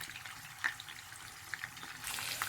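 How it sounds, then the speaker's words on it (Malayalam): Chicken sizzles and crackles in hot oil in a non-stick pan, with a few sharp pops and a louder burst of frying near the end. "ആ എണ്ണയിൽ കിടന്ന് നോൺ സ്റ്റിക്ക് ആയതുകൊണ്ട് അടി പിടിക്കത്തില്ല"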